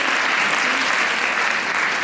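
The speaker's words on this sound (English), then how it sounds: "Chanel team is applauding you" Dense, steady audience applause fills a short stretch at an interview event, loud and continuous, with many hands clapping at once and no break.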